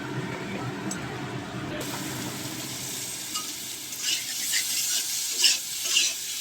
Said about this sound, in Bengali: এবার এই মশলাটাকে ভালো করে কষাবো।